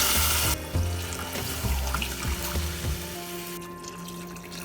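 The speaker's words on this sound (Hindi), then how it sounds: "इस स्टेज पे बॉयल वाटर, हॉट वाटर में डाल रही हूँ," Hot water pouring from a tap or kettle into a pot for chicken stock, a steady close splashing rush that fills the first few seconds and then settles into a quieter trickle.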